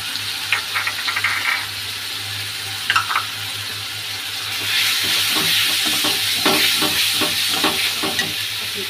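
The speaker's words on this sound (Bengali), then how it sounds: "হলুদটা দিয়ে দেবো, বেশি ভাজলেও অসুবিধা হয়। কাঁচা লঙ্কা দিয়ে দেবো দুটো, নুনটাও দিয়ে দিচ্ছি।" Turmeric, green chillies and salt sizzle in a hot pan. A steady frying hiss runs throughout, overlaid with clinking stirs and scrapes that grow busier and louder in the second half.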